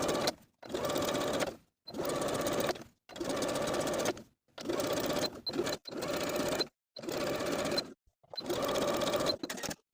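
A sewing machine stitches a side seam on a stretch-knit raglan top's waistband in seven or eight close bursts of fast whirring, separated by short pauses.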